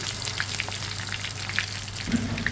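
Water lily (shapla) chops frying in oil in a pan, giving a steady soft sizzle with scattered small pops and crackles throughout and a brief bump of stirring near the end.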